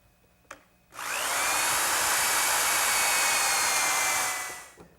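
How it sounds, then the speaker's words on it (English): A power drill boring a 1/4 inch hole in wood with a brad point bit fitted with a depth collar, spinning up sharply into a steady high whine for about four seconds before winding down. "Now to drill the hole, I'm just going to use a 1/4 inch brad point bit with a little collar so that I drill to the right depth."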